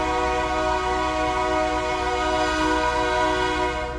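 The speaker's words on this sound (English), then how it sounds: "See it cutting through the woods." A train rumbles steadily through woods on a rail line, a continuous, fairly loud drone with sustained tonal hum throughout and no talking.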